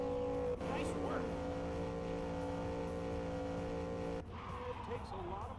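Race car in Cars: Radiator Springs Adventures, a steady engine tone that holds for about four seconds and then breaks into tire skidding and squeal. A voice speaks over it.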